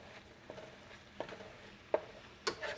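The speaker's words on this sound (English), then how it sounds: "Stirring the meat around, and there's onions in it that I diced up and added, so the hamburger and the onion is cooking together" Ground beef and diced onions stirred in a pan with a spatula: four soft scraping strokes spaced about half a second apart over a faint background sizzle, close and quiet, no voices.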